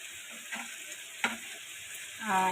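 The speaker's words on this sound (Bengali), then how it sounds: "আমি বেশ ভালো করে কষিয়ে নিচ্ছি" Curry is sautéed and stirred in a frying pan, with a steady low sizzle broken by a few scraping stirs of the spoon at close range and no talk.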